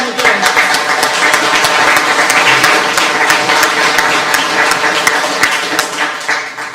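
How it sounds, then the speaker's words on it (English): Applause at a community meeting on state highway roading issues, with steady clapping from a modest crowd and sharp individual claps popping through, while talk and murmuring voices carry on underneath. "So a round of applause for them again."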